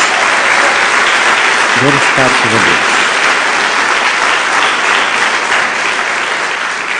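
Dense, sustained applause from a large crowd continues throughout, with a voice briefly speaking over the clapping.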